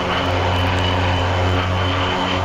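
The propeller engine of an OV-10 Bronco in the DCS flight game drones steadily and loudly with a constant low hum and a broad rushing roar, with no break throughout.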